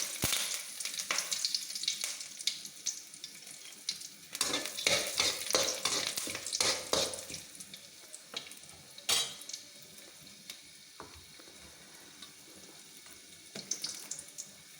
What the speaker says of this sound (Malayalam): വെളിച്ചെണ്ണ ഒഴിച്ച് കടുക് പൊട്ടിയതിന് ശേഷം 3 കഷ്ണം വെളുത്തുള്ളി, കറിവേപ്പില ഇതിട്ട് പൊട്ടിക്കണം.